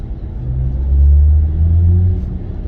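A 2022 BMW i4 M50 electric car accelerates hard, giving a deep synthetic drive hum that swells and holds for a moment before easing slightly.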